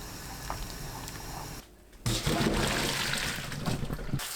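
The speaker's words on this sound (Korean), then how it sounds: "찬물에 바로 헹궈내세요." Running water splashes and rushes steadily after a brief quiet gap, a close, fairly loud cold-water stream as blanched cucumber is rinsed under it.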